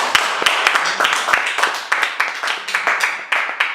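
A church congregation claps together in praise, quick rhythmic claps repeating steadily and fairly close, with voices mixed in under the clapping.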